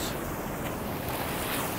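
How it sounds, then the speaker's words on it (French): Ocean waves at the shore as the high tide comes in, a steady broadband wash of surf mixed with gusty wind on the microphone, close and continuous. "Et oh là là, je me fais renverser par les vagues."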